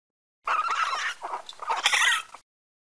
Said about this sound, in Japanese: アライグマ